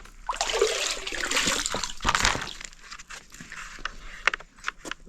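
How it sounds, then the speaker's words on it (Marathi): Water splashing and pouring in uneven bursts, with sloshing and trickling, close by, as a bucket is drawn up from a well and emptied. "इथून विहिरीतून पाणी काढतात तसं पाणी काढूया पटकन"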